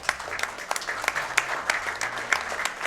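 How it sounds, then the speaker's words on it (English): Steady applause from a group, many hands clapping in a continuous patter without pause. "Can we get some applause from that sprite, by the way?"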